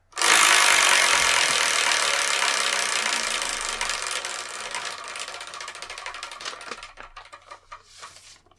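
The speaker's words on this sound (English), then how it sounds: "I'm going to spin this Wheel of Manga" A Wheel of Manga prize wheel spins on its own with no voices, giving a loud, steady clicking rattle that slowly thins out and slows until it stops.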